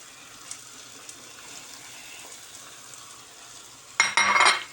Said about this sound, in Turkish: Domatesi verebiliriz 10 dakika oldu kavuruyorum.